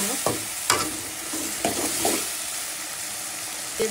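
Garlic paste fries with small kachki fish in hot oil, giving a steady close sizzle broken by several sharp stirring scrapes early on before settling into an even hiss.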